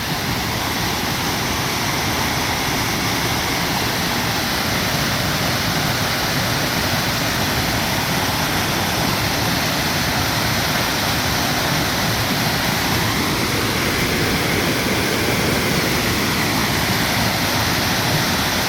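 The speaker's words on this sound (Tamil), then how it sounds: "தண்ணி நல்லா விழுந்துக்கிட்டு இருக்குது." At the Erumai Savadi private falls in Courtallam, Tenkasi, a waterfall roars in a dense, loud, unbroken rush of falling water. It sounds close and steady throughout, with no voices.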